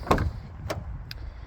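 Car door opening on a Mazda MX-5 1.5 Skyactiv-G, a few quick close clicks and clunks of the latch and handle, followed by a brief higher mechanical tick.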